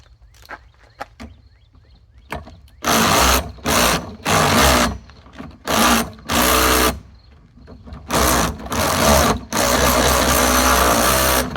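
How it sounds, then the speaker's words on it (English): A worn power drill with a failing clutch revs in repeated loud bursts separated by short pauses, its motor whining harshly with a ragged, labored edge. "this drill has about had it. Clutch on it's about done for"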